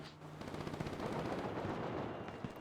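Sustained gunfire from a firing range in the video game GTA, a dense continuous crackle of overlapping shots at moderate distance with no pauses across the stretch.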